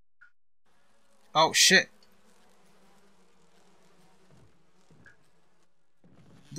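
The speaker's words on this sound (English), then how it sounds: "The bees." Buzzing of bees in the Resident Evil Remake video game, a short loud burst of insect drone that fades, followed by quiet and a swear from a player.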